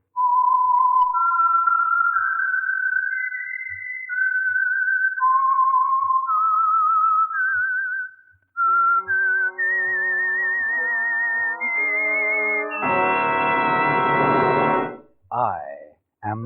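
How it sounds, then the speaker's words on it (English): A solo whistled signature tune for the Signal Oil radio program The Whistler rises and falls in sustained melodic notes over a faint rhythmic pulse, ending in a swelling orchestral chord and a final flourish, loud and close. "the signal to listen for is this whistle that identifies the Signal Oil program"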